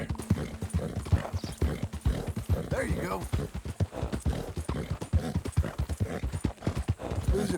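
Horse hooves clip-clop in a steady walking rhythm in Red Dead Redemption 2, close and distinct beneath someone speaking softly to his mare throughout.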